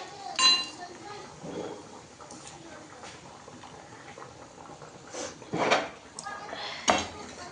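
Hands rummaging through kitchen dishes and pots for a bowl, with clinking metal and ceramic knocks in several short bursts amid quieter shuffling and a faint bubbling pot.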